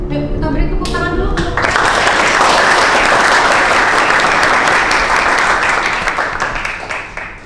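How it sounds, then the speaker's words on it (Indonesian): In a classroom, students break into loud, dense clapping for a student right after a short spoken phrase, and the applause holds steady before starting to fade near the end. "Yuk, kita beri tepuk tangan dulu."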